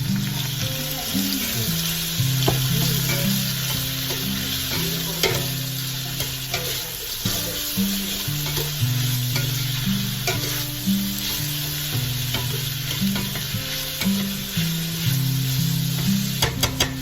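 Onions fry in hot oil for biryani, stirred steadily: a continuous loud sizzle with scraping and stirring strokes throughout, no voices.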